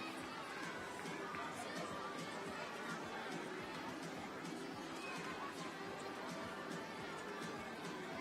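A stadium crowd at the 2018 World Para Athletics European Championships in Berlin keeps up a continuous murmur of chatter and scattered noise, steady and moderately distant, with no sharp cheers.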